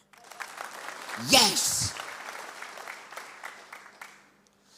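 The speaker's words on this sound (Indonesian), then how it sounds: "Tepuk tangan." A church congregation in Surabaya applauds during a sermon: a steady background of clapping from many people, with a loud voice shouting briefly in the middle and a spoken word over it.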